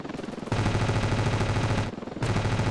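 Rapid helicopter-mounted machine gun fire in Ravenfield, two sustained loud bursts of dense, fast rattling shots separated by a brief pause.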